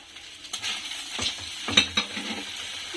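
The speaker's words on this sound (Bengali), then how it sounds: "এখন আমি মাংসটা না হওয়া পর্যন্ত নাড়তে থাকবো" A utensil stirring chicken mince with spices and vinegar in a frying pan, with light sizzling and repeated scraping strokes against the pan, close and clear, with no talking.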